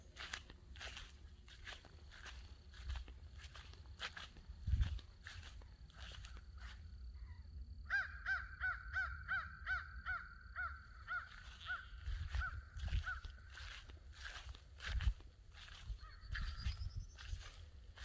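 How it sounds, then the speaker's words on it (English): A crow caws in a rapid run of harsh, repeated calls, with scattered clicks and crunching nearby and other faint bird sounds around it. "I think that crow was messing with probably a nest of another bird"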